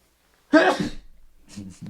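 A single sharp sneeze bursts out close by, followed by a short quieter breathy sound.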